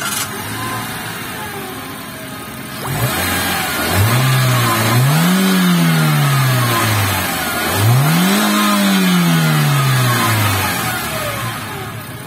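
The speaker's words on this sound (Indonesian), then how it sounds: "Sekarang kita pengen startup untuk denger suara mesinnya kayak apa sih?" A manual Daihatsu Terios 2022 with a 1.5L engine cranks and starts, then revs twice in long rising-and-falling sweeps, loud and close, settling toward idle between them with no talking.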